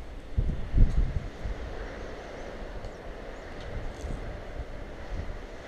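Strong wind blowing outdoors, a steady low rumble of gusts buffeting the microphone, with a few louder thumps near the start, then a constant roar.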